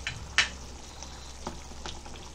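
Egg paneer gravy with mint simmering and frying in a pan, a low steady sizzle with a bright clink of a utensil and faint stirring, no voices.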